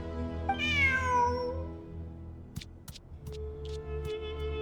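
A cat in Genshin Impact gives one clear, rising and falling meow close up, followed by light clicks and a low ambient hum.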